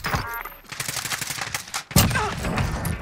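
Rapid AK74u bursts from a Warzone match crackle loudly and repeatedly, with a dense volley near the end, while squadmates talk over the shooting.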